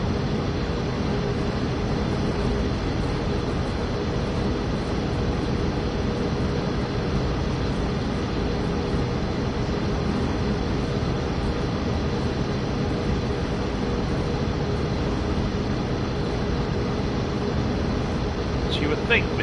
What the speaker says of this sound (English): you can hear the raindrops on the roof of the train